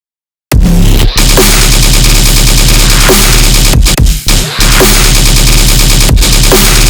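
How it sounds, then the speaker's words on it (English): A synthesized tearout-style machine gun bass with a matching sub, loud and heavily distorted, stuttering in fast rhythmic bursts after a brief silence, with short gaps between phrases and no voice. "Now I'm going to turn off this machine gun bass."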